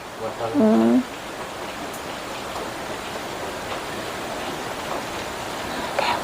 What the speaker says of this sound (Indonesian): Tapi ini juga hujan.